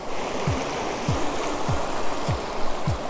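A creek on the West Coast runs with a steady, full rush of flowing water, close and fairly loud, while low regular thumps that sound like footsteps pass underneath, with no voices.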